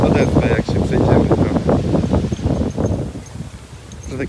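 Strong wind buffeting the microphone in loud, gusty rumbles on a walk by marshland, with rustling and a voice speaking over it.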